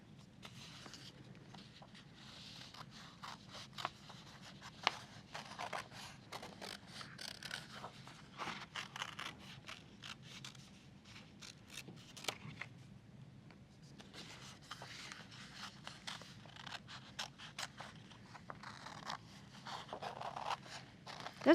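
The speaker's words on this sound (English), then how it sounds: "Okay, now we're ready to cut those out." Scissors slowly cut paper sunflower shapes for an art lesson, producing soft repeated snips and rustling scrapes over a long quiet stretch with a faint low hum.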